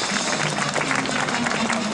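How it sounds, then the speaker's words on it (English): Crowd applause fills an arena during a rodeo grand entry, steady clapping throughout at full strength with no pauses. "I think we should give them a round of applause right now"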